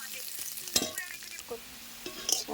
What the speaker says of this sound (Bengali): তার পেঁয়াজটা একটু লাল লাল করে ভেজে নেবো পেঁয়াজ কুচি